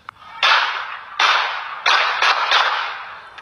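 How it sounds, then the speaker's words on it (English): Several sharp, loud bangs in an irregular burst, each a sudden broadband crack with a short ringing tail, ringing out on an open street. "Security camera captures the sound of gunfire on Herman Street."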